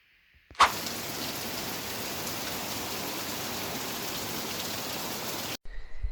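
Rainy-season rain in mid-November at Dow Valley pours over an off-grid building site: a loud, even hiss that starts abruptly, holds steady for about five seconds and then cuts off, with no talking.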